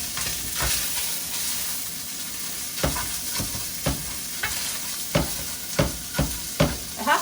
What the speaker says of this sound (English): Scramble up eggs.